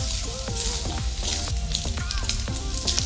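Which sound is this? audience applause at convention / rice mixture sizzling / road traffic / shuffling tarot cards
rice mixture sizzling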